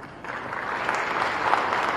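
An audience at a public gathering breaks into applause. It starts after a short pause and swells into dense, steady clapping from many hands.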